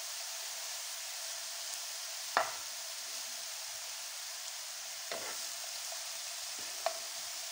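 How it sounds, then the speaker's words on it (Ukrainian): Champignon mushrooms fry in a pan with a steady, even sizzle, and a few faint utensil clicks and scrapes cut in now and then. "За цей час, поки обсмажуються наші гриби, шампіньйони, Крістіан наріже цибульку і підготує сметану"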